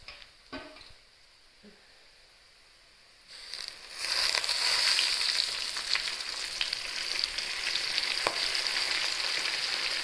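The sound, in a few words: frying washed chicken gizzards and livers in a pan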